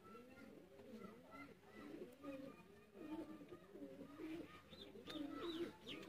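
Teddy pigeons on sale in Sialkot coo steadily in low, rolling phrases, several birds overlapping at close range, with a few higher chirps near the end.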